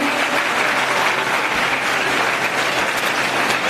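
Loud, sustained applause from the public gathered at Deoli to welcome the Chief Minister, a thick, even wash of many hands clapping without pause.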